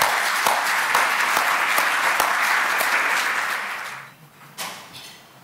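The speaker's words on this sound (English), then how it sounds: "applause" A room full of people at a library resource-sharing community breakfast claps steadily for several seconds, then the applause fades out to near quiet.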